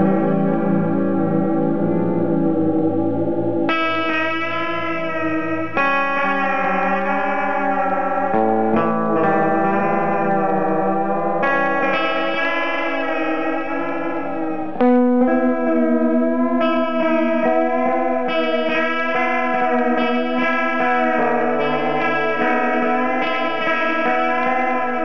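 An electric guitar plays through a Rocketride First Echo on the Moon delay pedal, its repeating notes wavering and sliding in pitch, with layered echoes trailing each phrase, played alone and fairly loud.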